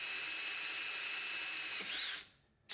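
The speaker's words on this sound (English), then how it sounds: "I'm switching to a 135 degree split point drill, and as you can see, this is pulling material out of the hole quite a bit faster" A 135 degree split point drill bit bores a hole in metal on a Grizzly G0602 lathe spindle lock, a steady high whine of cutting that holds for about two seconds, then spins down to near silence.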